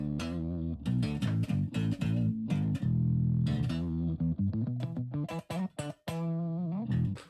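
Guitar reshaped into a bass tone in Ableton, playing a loud, continuous low-pitched line of plucked notes with a few brief gaps, alone with no talking.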